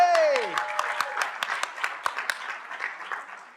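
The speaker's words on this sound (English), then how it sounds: "A big round of applause for yourselves for making it this far." Scattered clapping from an audience at an awards event for a DevNet 2022 forum debate, sparse and fairly close, following a brief falling tone at the start.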